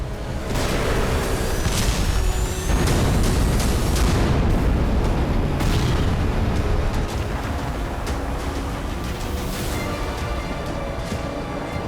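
Heavy booming explosions rumble one after another amid a dense, continuous roar of low noise, with no talking.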